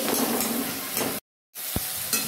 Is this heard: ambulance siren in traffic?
no